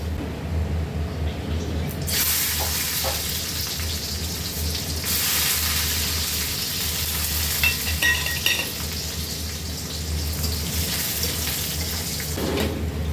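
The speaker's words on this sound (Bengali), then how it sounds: "কড়াইতে তেল দিয়েছি, ঘি দিয়ে দিলাম। গরম হলে চিনি বাদামটা আগে দিয়ে" Peanuts frying in hot oil and ghee in a wok give off a loud sizzle that surges sharply as they hit the pan, then crackles and hisses on with stirring scrapes.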